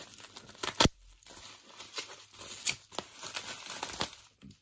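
A knife slices through heavily taped eBay packaging and bubble wrap holding LEGO minifigures, producing close ripping, tearing and crinkling bursts in an uneven rhythm, with no voice over them.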